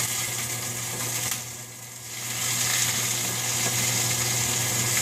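Artichoke hearts sizzling in olive oil in a pan over medium heat, a steady close frying hiss that dips briefly then swells back, with no talk.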